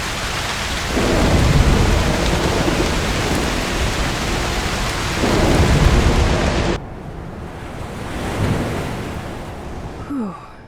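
A loud thunderstorm in the video game Broken Pieces, with heavy steady rain and deep rolling thunder swelling twice before the downpour drops to a softer patter.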